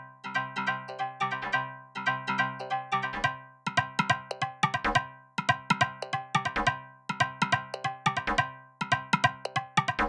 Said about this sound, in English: So I really like this freaky FM sound, so I just mixed it in a little bit